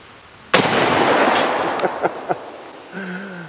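A single loud rifle shot from a Mosin Nagant M38 fired outdoors into a jug of water, a sharp crack with a long rolling echo, followed by a few fainter pops.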